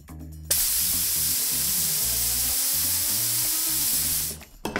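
A 3D-printed PLA turbine drives a timing belt and pulley to hoist a 2.5 kilogram weight, giving a loud, steady rushing hiss with a low rhythmic mechanical thrum underneath, starting abruptly and cutting off after about four seconds.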